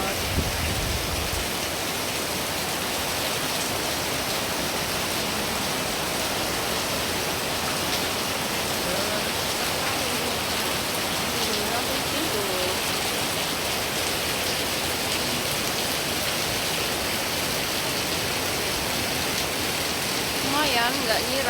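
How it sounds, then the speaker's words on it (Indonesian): Heavy rain pouring steadily in early September in Indonesia, a dense continuous hiss and patter on surfaces that holds at the same loud level throughout with no breaks. "Sekarang hujan deras banget."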